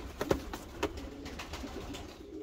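Large, tall Maltazar pigeons coo in a few short, fairly close bursts, with a soft ongoing cooing murmur between them and no talk.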